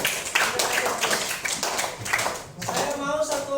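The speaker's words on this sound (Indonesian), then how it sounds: "Oke, tepuk tangan dulu untuk temannya." A classroom applauds a classmate with a short patter of clapping, mixed with a teacher's voice talking over it.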